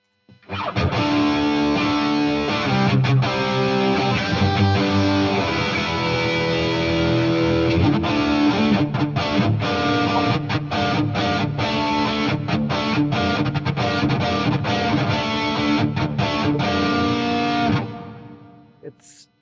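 A Marshall DSL100H guitar amp playing a driven, distorted rock tone, with dense sustained chords and choppy stops, loud and close for most of the passage before it cuts off and rings out.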